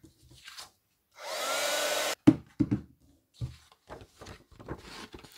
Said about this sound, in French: Ensuite, je vais chauffer avec mon pistolet à chaleur jusqu'à ce que la poudre fonde.